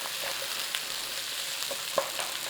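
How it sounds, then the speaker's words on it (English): Potatoes cook in a pot with garlic for a creamy garlic soup, a soft even sizzle with a few faint stirring knocks and one brighter clink near the end, no talking. "In there, potatoes. Let's give them a little cooking in there as well."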